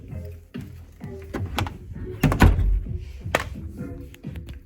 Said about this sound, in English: Should probably shut this door.